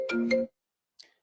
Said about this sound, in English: So sorry about that phone call